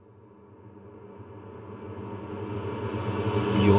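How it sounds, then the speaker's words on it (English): A reverse reverb build-up on a producer tag swells steadily from quiet to loud over a few seconds, a smeared tonal wash that brightens and rises toward an abrupt cut. "you'll get to see that reverse reverb build up"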